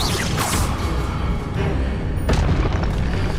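A Confringo fire spell detonates in Hogwarts Legacy, a loud broadband blast with a second sharp burst near the end over continuous game noise.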